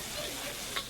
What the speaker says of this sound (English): This is called a stir fry